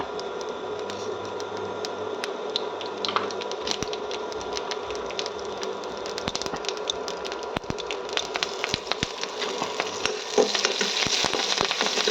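Sliced okra (lady's finger) frying in a hot pan for a home-style fry, a steady close sizzle broken by frequent sharp spatters and occasional stirring scrapes, no voices.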